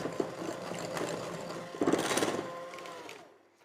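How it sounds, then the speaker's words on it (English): A cordless hand mixer creams butter and sugar in a bowl, a whirring motor buzz with uneven surges as the beaters work the mixture before winding down to quiet. "I do love my cordless mixer."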